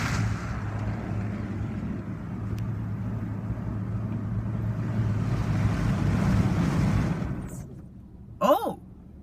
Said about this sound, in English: We have a top wash coming up.